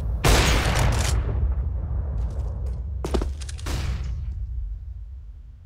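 Gunfire in the video game CS:GO: several sharp bursts of shots, some rapid and clustered and others single, sounding near and loud over a low game rumble, with no talk.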